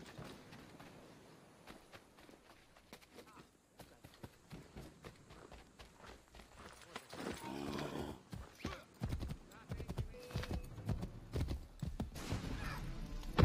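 Horse hooves galloping in the Assassin's Creed III video game, a rapid clip-clop rhythm that builds from faint to loud and close over the second half, with an occasional whinny and dense game sounds around it.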